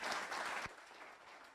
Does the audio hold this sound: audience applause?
yes